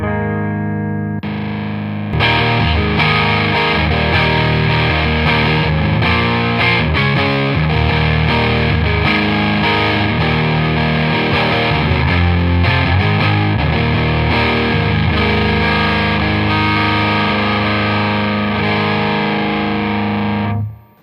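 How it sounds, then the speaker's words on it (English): Electric guitar played through a Paul Cochrane Timmy transparent overdrive pedal with a three-way clipping toggle: sustained, distorted chords and riffs, loud and continuous, with no speech. "The Timmy is what we call a transparent overdrive."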